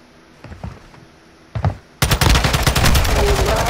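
Call of Duty: Modern Warfare II gunfire: a few isolated shots at first, then a sudden loud stretch of rapid automatic fire, close and dominant.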